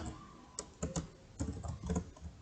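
Computer keyboard typing as a compile command is entered at a command prompt: several separate key clicks and short clustered bursts with brief pauses, close and fairly quiet, no speech.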